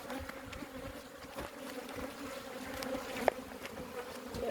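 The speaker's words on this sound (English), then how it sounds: "Oh, there's a swarm." A steady, droning buzz of many bees swarming close by, continuous with a slight rise and fall, no voices.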